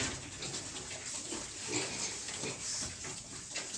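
Soft, low grunts and snuffles from newborn piglets under a steady background hiss, continuous and fairly quiet throughout.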